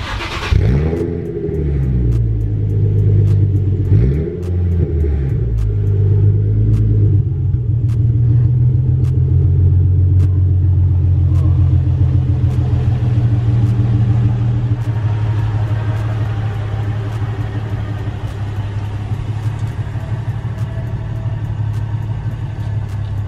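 A modified Nissan 350Z engine starts warm with a loud close crank and a couple of throaty revs. It then settles into a steady, deep, rumbling idle that goes on for about twenty seconds, with no talk.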